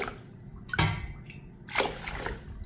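Water poured into a bowl of Mappillai Samba rice for washing, with two splashing, dripping pours standing out against a quiet background.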